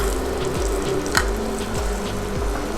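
Ginger and garlic paste sizzling in hot oil in a pan for a corn curry, a steady close frying hiss with a few sharp spits and pops, no talking.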